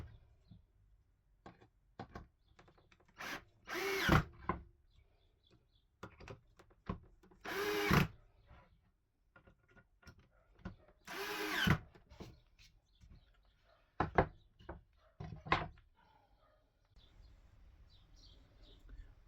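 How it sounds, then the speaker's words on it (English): A power drill bores holes in fencing wood in several short, loud bursts spaced a few seconds apart, with quiet clicks and handling noises between them and faint birdsong in the background. "I'll drill all these holes, get it all set up"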